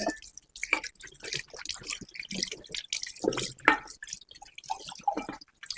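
Clay karva pots being washed with water at a sink for the Karva Chauth ritual: irregular drips and splashes of running water, soft and close, with brief clatters of the pots.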